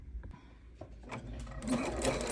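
A sewing machine runs a zigzag stitch across a coiled rope bowl, a close, quick mechanical chatter that starts in short bursts and builds into a steady, louder whir.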